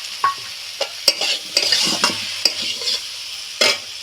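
Potato and capsicum sautéed in a pan with spices such as cumin powder, sugar and chilli powder: repeated scraping stirs over a steady low sizzle, close and fairly loud, with no talking.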